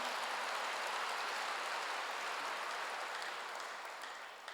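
A church congregation applauding during a sermon, dense even clapping from many hands that holds steady and then fades slightly at the end, heard from a little distance.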